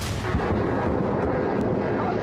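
A deep, rumbling blast rolls on as a continuous boom, muffled and distant-sounding, with no voices.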